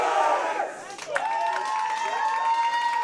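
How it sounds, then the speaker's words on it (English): A high school bowling team's crowd section chants and cheers loudly at a state championship in a bowling alley, a continuous roar of voices with shouts rising over the hall's ambience. "The Knights with their cheer pumping up the crowd."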